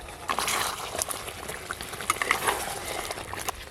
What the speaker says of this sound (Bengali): চাপা খুলে একটু নেড়ে নেব।